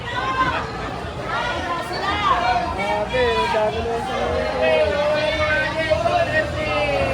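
Overlapping voices fill a busy Philippine public market, a crowd of people calling and chattering at moderate volume in a continuous babble with scattered louder shouts.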